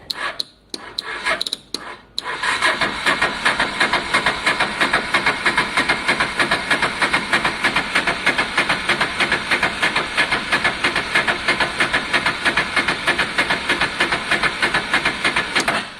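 A Honda Deauville motorcycle with a freshly cleaned carburettor cranks with a few stuttering bursts, then catches and settles into a loud, fast, even idle right up close.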